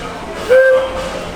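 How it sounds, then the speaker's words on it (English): A Disneyland park train sounds a single short whistle toot lasting about a third of a second, rising briefly above a steady murmur of outdoor crowd ambience. "Oh, the train. Okay, we gotta pause for the train."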